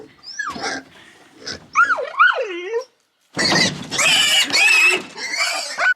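Newly bought farm pigs squeal and grunt loudly near the farm dog Cooper, with high wavering squeals and harsh calls in bursts separated by a brief pause.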